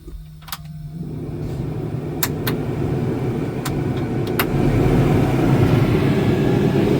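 Air conditioning blower running inside a 1964-1966 Ford Mustang, starting up after a brief quiet moment and settling into a steady, loud rushing hum of moving air with a few faint clicks, no talking.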